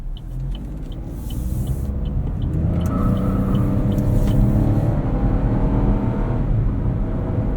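Engine of a 2025 Chevrolet Trax 2RS droning and rising steadily under acceleration while driving, heard from inside the cabin with road rumble, a continuous close whir and no talking.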